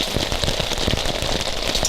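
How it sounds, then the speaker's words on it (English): Rain falls steadily at a wilderness campsite at Whisker Lake in late December, a dense, even patter of drops on surfaces close by, with no voices. "At the end of December, we're getting rain."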